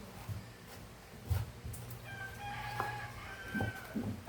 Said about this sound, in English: And you can hear the rooster outside.